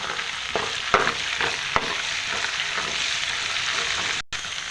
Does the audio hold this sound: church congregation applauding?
no